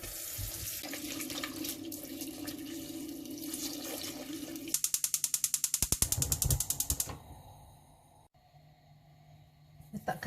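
Potatoes being washed under a running kitchen tap, with steady water into a sink followed by a rapid ratcheting clicking burst and quieter handling.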